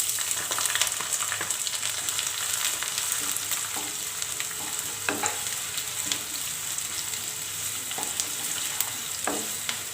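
Onions sautéing in sesame oil with mustard seeds and curry leaves for a tamarind curry with okra, a constant bright sizzle broken by several scraping stirs, no one speaking.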